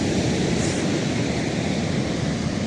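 Sea waves wash over bare feet at the shoreline, a steady, loud rushing hiss of surf with no pause throughout.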